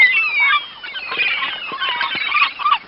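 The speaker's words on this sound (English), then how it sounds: "Let's add some seagulls." Several gulls calling and squealing over one another, shrill cries rising and falling in quick overlapping bursts.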